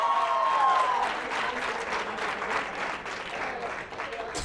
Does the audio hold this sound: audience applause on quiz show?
yes